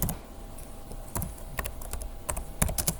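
Typing on a computer keyboard while naming a railing type in design software: sparse, close key clicks in uneven bursts, with a quick cluster of taps near the end, moderately loud and with no talking.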